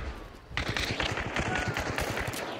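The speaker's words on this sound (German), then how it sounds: "Ja, da kam auch noch ein Schuss." Gunfire in the online shooter Hunt: Showdown, a burst of rapid sharp reports that starts after a brief lull and runs on steadily at moderate loudness, with no talk over it.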